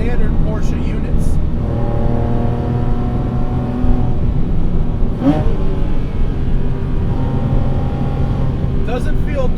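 A wide-body Porsche Cayman with a naturally aspirated 4.2-litre stroker engine, its steady loud drone rising and falling as it is driven, heard from inside the car with a voice talking over it.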